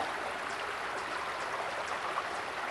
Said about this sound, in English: I found this beautiful creek. It's very peaceful.